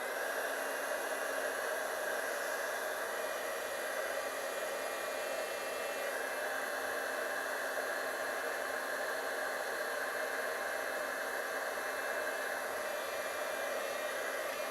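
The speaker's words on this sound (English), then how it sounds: "I'm gonna heat tool it because y'all, it's been a while, so I need to get these dry." A heat tool blows steadily over wet watercolor paint, a constant loud airy whir that holds without break for the whole stretch.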